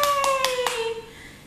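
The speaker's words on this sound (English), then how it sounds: "He claps his hands like when we go" A baby claps his hands four times in quick, even succession, soft and close, over a thin steady tone that slowly fades.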